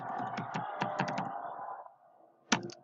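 Keys clack in short bursts as code is typed on a computer keyboard, a close run of light taps that pauses and then ends with a few final strokes.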